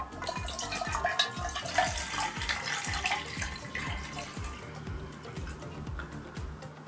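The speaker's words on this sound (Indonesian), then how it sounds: "sekarang gua akan tuang 500 ml ini ke dalam NES-nya" Water pours steadily into a camping cook pot, about 500 ml for boiling on an Alltrek Spider folding gas stove, a continuous splashing trickle close by with no talk.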